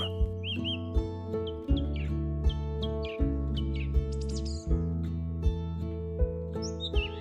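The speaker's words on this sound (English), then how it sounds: "Migratory birds fill the sky, filling the air with their songs" Migratory birds sing over wild Siberian forest, with bright chirps and tweets scattered throughout above a steady, sustained musical backdrop and soft rhythmic pulses.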